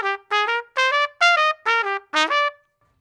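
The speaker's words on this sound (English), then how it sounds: "it's going to sound like this if we're clipping those slurs" A trumpet plays a short phrase from a jazz etude with each slurred group cut off early, leaving six choppy bursts separated by clear gaps, close and alone without talk.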